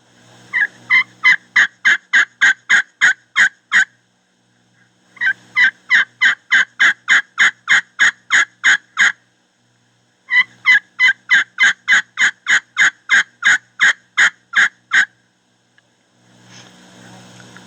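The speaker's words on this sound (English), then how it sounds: "On the little deuce, we're just going to speed up the rhythm of our circles." Turkey yelps played on a Little Deuce friction call, three quick, fast-paced series of about ten sharp raspy notes each, close and loud with short pauses between.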